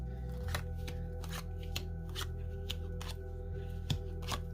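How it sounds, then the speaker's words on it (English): A deck of tarot cards is shuffled close by in a steady series of crisp riffling bursts repeated about every half second, with no voices. "I've been shuffling. I'm sure you could have heard that."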